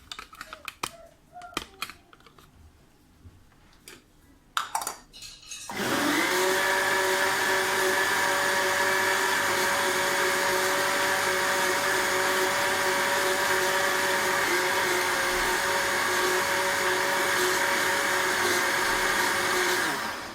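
Countertop blender runs steadily for about fifteen seconds, mixing flan cake batter as flour is gradually added, a loud continuous motor whir that starts abruptly after a few quiet seconds of light handling noises.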